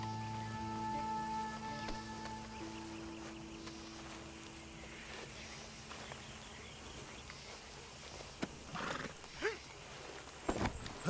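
A horse whinnies and snorts in Red Dead Redemption 2, several short calls and hoof-like knocks arriving near the end over a steady rain-like wash and low sustained tones.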